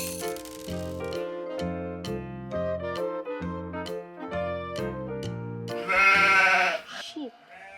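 Sheep bleating in a playful, tuned series of short repeated calls, close and clear, ending in a longer noisy bleat.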